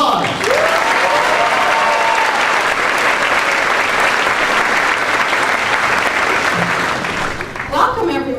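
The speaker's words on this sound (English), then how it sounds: "Let's give her a round of applause." A university general assembly audience gives a long, loud round of applause for the faculty senate president, sustained and even for several seconds before tapering off as a voice begins speaking at the end.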